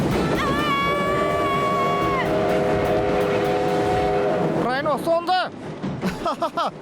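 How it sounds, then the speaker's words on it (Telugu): Cartoon train approaching with a long multi-tone steam whistle blast, followed by bursts of chugging and squealing effects over a rumbling background. "ట్రైన్ వస్తుంది."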